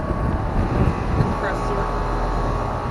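A 2013 Ruud 2.5-ton air conditioner runs outdoors with a steady broadband whoosh and low hum, its compressor and fan droning evenly and fairly close throughout.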